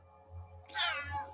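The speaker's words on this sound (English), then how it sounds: "Oh, it's a kitty cat." A house cat gives a single clear meow, close and fairly loud, rising and falling over about half a second against a quiet low hum.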